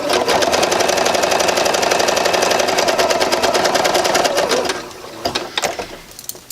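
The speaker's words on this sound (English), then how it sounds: "because I'm using my sewing machine" Home sewing machine stitching knit sweater fabric for a capelet refashion, a loud, rapid mechanical whirring and clatter running steadily for several seconds before slowing and stopping into a few scattered clicks.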